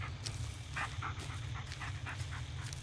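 A dog pants in the Blair Witch video game, a quick, steady rhythm of breathy huffs close by over a low ambient drone, with no talking.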